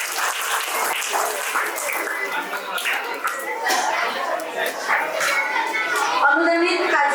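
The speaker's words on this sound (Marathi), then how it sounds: "मुलांना जोरदार टाळ्या वाजवून मॅडमला अभिनंदन करूया" Children clap loudly at a teacher's retirement ceremony, a dense, steady burst of applause mixed with children's chatter and voices throughout.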